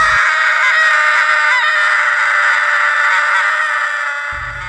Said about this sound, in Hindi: दीपक ने टॉर्च से आत्मा पर रोशनी डाली और अचानक उसकी चीख गूंज उठी